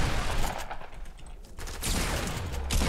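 Dense automatic gunfire from Fortnite Battle Royale rattles almost continuously, loud and close, briefly thinning in the middle before heavy bursts resume.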